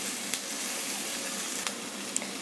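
Egg, vegetables and capsicum stir-frying in a pan make a steady, close, hissing sizzle, with a few faint clicks of stirring and no talking.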